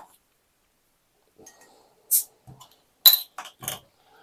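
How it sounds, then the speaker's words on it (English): A bottle of Chimay Cinq Cents beer is opened and poured into a glass, with sparse faint clinks, a hiss of fizz and a few sharp glassy knocks in quiet surroundings. "There's a nice bit of fizz to that on opening."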